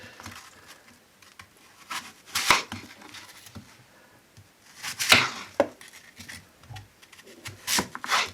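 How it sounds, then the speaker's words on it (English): Knife chopping Bramley apples on a board for apple sauce, with scattered sharp cuts in short clusters and quiet scraping between them, close and fairly soft. "And now to chop the Bramleys up."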